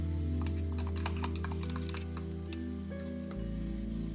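Green chilli, ginger and garlic paste hits hot oil in a pan for chicken biryani, giving a steady close sizzle and frying crackle that runs the whole time, with a low hum beneath and a brief stir.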